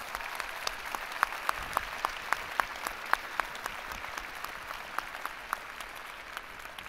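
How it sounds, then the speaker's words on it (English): Applause for family and friends at a university winter commencement ceremony, a large crowd clapping steadily with sharp individual claps standing out, sustained at moderate loudness from start to end. "Let's give family and friends a big round of applause."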